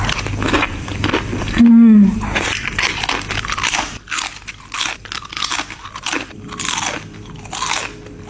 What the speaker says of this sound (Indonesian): Renyah banget. Pas digigit bunyinya keras gitu.